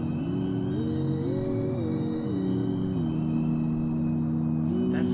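A sustained humming synthesizer tone from an electronic album drones steadily, its pitch stepping up and down in a slow gliding melody over a constant hiss, with a faint bright shimmer near the end.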